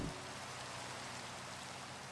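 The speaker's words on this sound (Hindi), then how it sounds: "ओह बारिश भी होने लग गई यार" Rain falling in Minecraft, a steady soft hiss of drops on surfaces, continuous and even without any talk.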